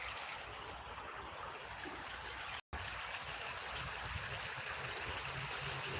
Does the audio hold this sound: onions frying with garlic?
no